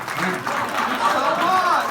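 Audience applause, fairly faint and brief, with a voice speaking over the clapping throughout.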